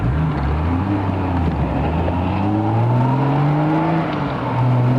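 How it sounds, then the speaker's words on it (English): A loud car speeds up toward highway speed on a 1996 drive near Ft Myer, Arlington. The engine drones with a rising and falling pitch under constant road roar, heard close from inside the car with no talking. "The thing is, my car gets really loud, so it could be hard to hear once in a while."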